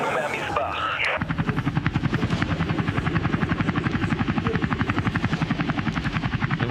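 Helicopter sound effect in a comic rescue skit, loud rapid rotor chopping that starts after a brief burst of voices and keeps a steady pulsing beat throughout.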